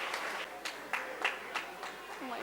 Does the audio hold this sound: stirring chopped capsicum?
no